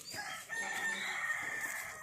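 Chickens clucking and crowing close by in a rural yard, a steady run of overlapping fowl calls filling the whole stretch with no voices.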